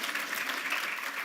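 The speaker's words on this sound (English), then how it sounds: "If you want to clap for me, you can." Applause from a conference audience, a brief, steady patter of clapping hands at moderate distance, continuous for about a second without cheering.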